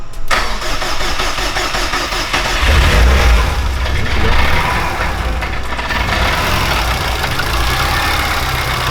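An 800+ hp Subaru Blobeye STi with an unfinished tune starts for the first time, cranking briefly, catching with a loud surge, then settling into a rough, steady idle up close.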